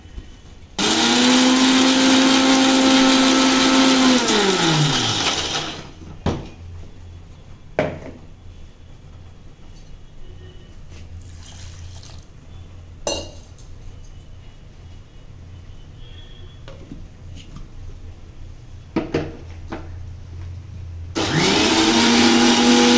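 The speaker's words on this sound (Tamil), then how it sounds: "இந்த மிக்சியில் நைஸாக அரைச்சிக்கணும்." A kitchen mixer grinder grinding masala paste for chana masala, starting with a loud steady whir that falls in pitch as it stops, a pause with faint clinks and handling, then the motor whirring up again loudly at the end.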